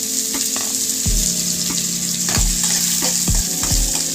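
Mustard seeds and onion frying in hot oil, giving a loud, dense, continuous sizzle close by, punctuated by several heavy thuds and scrapes of a spatula stirring the pan; no speech.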